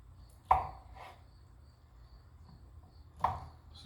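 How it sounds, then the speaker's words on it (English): A knife cuts feta cheese into cubes, giving two sharp, isolated taps on a board a few seconds apart against a quiet room with faint high chirping. "I'm gonna cut up some feta cheese. Just cut them in cubes."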